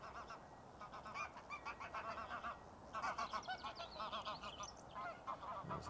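Geese honking beside a fishing lake during a carp match, a flock calling repeatedly in loud overlapping bursts that carry on without a break.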